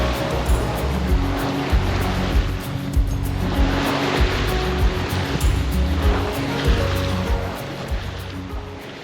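Ocean swell and waves wash steadily around a sailing boat in building wind, a continuous loud rush of water with rolling surges and a low hull rumble throughout.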